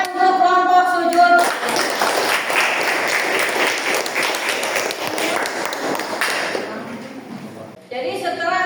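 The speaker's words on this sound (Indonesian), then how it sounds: "Tepuk tangan untuk kelompok sujud." A room of people claps for a student presentation group in a classroom, broad steady applause swelling then fading, with a voice speaking briefly before and after it.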